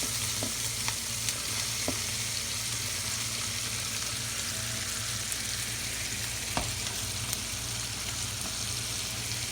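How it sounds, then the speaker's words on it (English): Garlic and onions fry in rendered bacon fat for a pork stew, giving a steady, even sizzle with occasional faint clicks and stirring, close and alone. "now we're going to add our vegetables into that fat. We've got some garlic, and then our onions"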